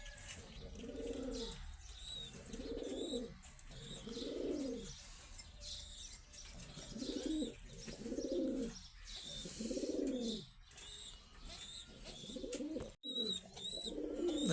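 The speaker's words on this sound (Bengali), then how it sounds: "এই যেটা হচ্ছে মা কবুতর," Pigeons in a pigeon loft coo in a steady, repeating rhythm, soft rolling calls one after another at close range, with a few light chirps and wing sounds in the background.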